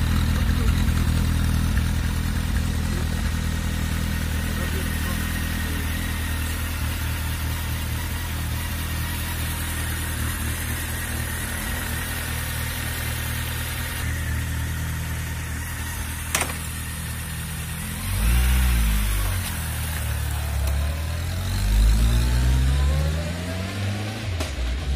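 A motorcycle idles with a loud, harsh exhaust muffler, producing a rough, throbbing drone for most of the stretch before a few revs and shifting engine tones near the end.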